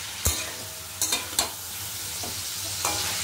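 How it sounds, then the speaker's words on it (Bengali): Kadai chicken with salt, turmeric, chili powder and a little oil frying on high heat in a home kitchen, a continuous close sizzle broken by a few sharp stirring scrapes and clanks. "এটাকে একটু ভালো করে তেজ করে ভেজে নিতে হবে"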